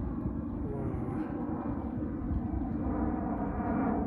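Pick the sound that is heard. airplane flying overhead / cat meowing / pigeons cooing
airplane flying overhead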